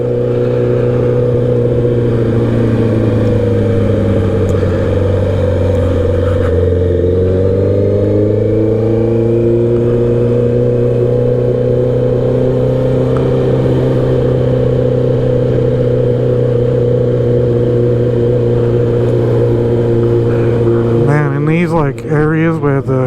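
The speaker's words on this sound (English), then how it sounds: "the bike sounds so good." Honda CB650R motorcycle engine droning steadily and close while riding, a deep even hum that dips briefly and swells again before a short revving flutter near the end.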